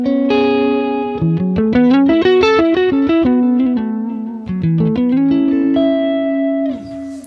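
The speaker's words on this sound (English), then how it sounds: "we got one tape delay on each, so I'm going to turn the wow up on that" Electric guitar played through a Quad Cortex with a tape delay, its wow turned up, placed after the amp and cab: a loud run of sustained melodic notes whose pitch wavers and smears into warbling, swelling repeats before ending on a long held tone.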